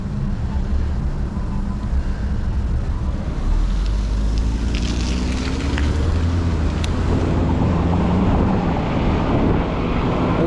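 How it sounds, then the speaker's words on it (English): Steady wind roars and buffets the microphone during a road ride on an Ecotric 20-inch folding fat tire e-bike, a loud, continuous low rumble that holds throughout with no break. "that wind's making everything feel weird"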